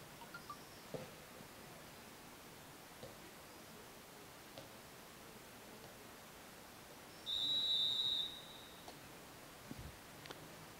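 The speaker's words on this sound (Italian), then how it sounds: "Ecco che ha fischiato l'arbitro Giorgio Gili" A referee's whistle at a Serie A match involving Cuneo gives a single sharp blast lasting about a second, standing out clearly above faint, steady crowd ambience.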